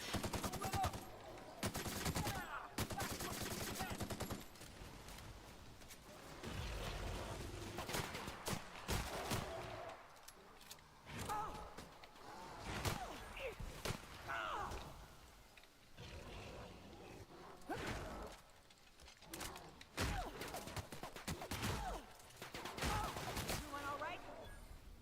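Rapid pistol gunfire from The Outer Worlds, repeated bursts of shots packed with dense game effects and a talking voice throughout.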